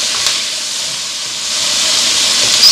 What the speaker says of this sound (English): I'm gonna add all of the vegetables. You're just gonna saute this for about 2 minutes.